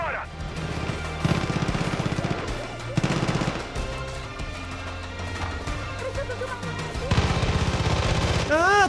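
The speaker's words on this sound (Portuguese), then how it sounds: "Tô vendo muito tiro, mas não sei de onde." Gunfire from the Far Cry 5 video game comes in bursts of rapid automatic shots mixed with heavier blasts, loud and repeated over several seconds.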